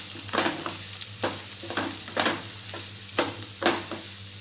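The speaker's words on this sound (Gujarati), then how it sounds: "તેલની સાથે એકદમ આપણે માંડવીના દાણાને જે આપણે ક્રશ કરેલા એને સરસ સાતળી લેશું" Crushed green peanuts, added after ginger and chili, are sautéed in oil for a farali chevdo, giving a soft, steady sizzle broken by regular, rhythmic scraping strokes of a spoon against the pan.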